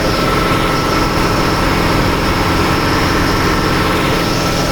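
Engine of a large passenger river launch heard from beside the engine room, a loud, dense, unbroken mechanical roar with a steady droning hum that fills the whole stretch.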